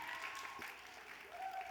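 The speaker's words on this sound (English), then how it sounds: "Clap it out for Warner Chapel." Audience applause at an award ceremony, a steady broadband wash of clapping from a crowd that holds fairly level for under two seconds, with faint tonal traces mixed in.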